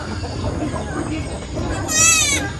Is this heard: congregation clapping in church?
no